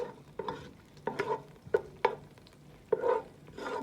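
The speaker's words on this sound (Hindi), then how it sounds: "थोड़ा सा मैं इसमें ऑयल डालूँगी और अब मैं इसमें ऐड कर रही हूँ लहसुन" Garlic fries in oil in a pan with a soft sizzle, punctuated by a spoon's irregular scraping and clacking as it is stirred, close and fairly quiet.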